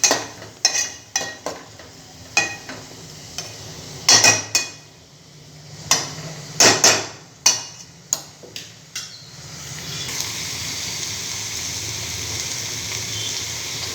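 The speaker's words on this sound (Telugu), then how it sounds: "ఉప్పు వేస్తే ఆనియన్స్ మంచి ఫ్రై అవుతాయి కదా" Onions fry in a pan with salt while a utensil scrapes and clatters against the metal in a string of sharp knocks, then a steady, fairly loud sizzle takes over for the last few seconds.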